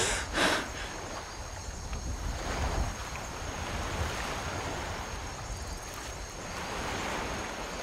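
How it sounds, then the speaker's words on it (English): Water waves and surf in Skyrim, lapping steadily around a swimming character, a continuous close wash with faint wind, no talk. "Back into the water we go!"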